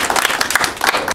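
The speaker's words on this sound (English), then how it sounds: "Clap for yourself." Students in a primary classroom phonics lesson clap for themselves, giving a short burst of uneven, fairly close clapping with no voices over it.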